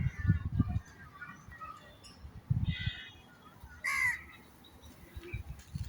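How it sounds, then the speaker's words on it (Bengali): A few scattered crow caws sound out in the open, some nearer and some farther, as crows arrive at food set out for them, between stretches of low background rumble. "এই যে কাকগুলো এসে পড়েছে এখন।"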